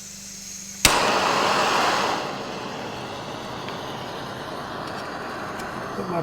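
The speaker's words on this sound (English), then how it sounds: "I'll start my stove on low." A Stryker 200 camping stove set on low lights with a sharp click, then settles into a loud, steady roaring hiss that eases slightly after a couple of seconds and carries on evenly.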